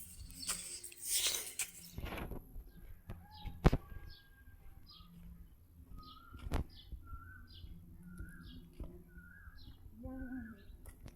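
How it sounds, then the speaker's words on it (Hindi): Pigeon calls in a Pakistani village, a series of short repeated coos and chirps heard fairly close after an initial burst of noise, with a few sharp knocks in between. "कबूतर है।"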